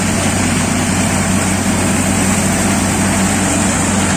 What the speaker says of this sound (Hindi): ट्रैक्टर की आवाज़ सुनो दोस्तों